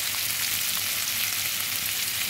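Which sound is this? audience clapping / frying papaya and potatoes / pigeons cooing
frying papaya and potatoes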